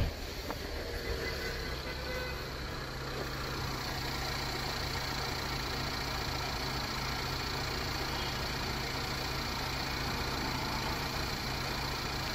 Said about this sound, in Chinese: 我们来测一下户外这发动机响着的这个声音